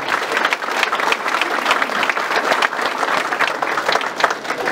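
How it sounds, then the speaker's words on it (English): A political campaign-announcement crowd applauding for the spouses in attendance, dense steady clapping sustained throughout at close range with no talk over it. "Let's give them a round of applause."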